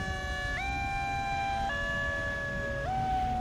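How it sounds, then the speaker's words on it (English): An emergency siren wails continuously and loudly, its tone stepping between pitches several times with no speech over it. "One siren after another."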